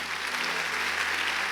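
A church congregation applauds together, a steady dense wash of clapping that holds evenly throughout at moderate loudness, with no voices rising above it.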